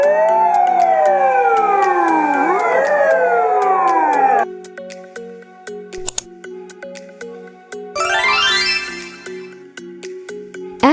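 A fire truck siren wails in loud, close, sweeping rising and falling tones for several seconds, followed by toy-like clicks, clatter and a short rising electronic sweep.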